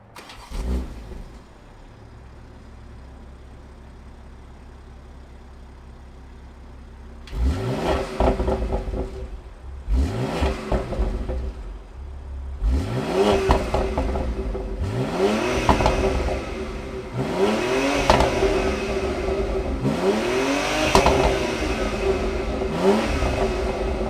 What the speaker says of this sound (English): let's fire up this M Power and hear what it sounds like